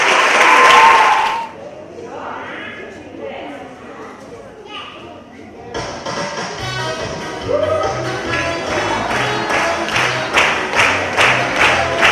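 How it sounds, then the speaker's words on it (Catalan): Loud applause from an audience at a school Christmas festival bursts out for the youngest pupils and dies away after about a second and a half. Talk, music and rhythmic tapping follow. "Un aplaudiment pels alumnes d'I3!"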